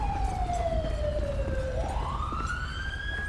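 An ambulance siren wails in the GTA 5 game, one loud tone sliding steadily down and then sweeping back up over a low rumble of traffic.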